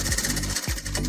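Sewing machine running a fast, steady mechanical stitch while double-stitching a small plastic sack into a market bag, close and continuous with brief dips in the rhythm.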